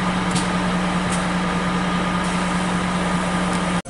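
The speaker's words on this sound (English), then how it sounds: "So we're gonna see if we could start it now." Steady engine drone from a 2013 Ford Ranger diesel with a misfire problem, running at an even idle with a strong low hum, close and constant, cutting off abruptly just before the end.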